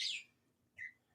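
Pet birds chirp in the background of a quiet room, two brief bright tweets separated by a pause, soft and at a slight distance.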